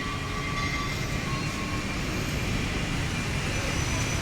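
Yellow Line monorail train on a test run at Hua Mak station, Bangkok, giving a steady, broad rumbling roar with a faint hum, continuous and fairly loud throughout without talk.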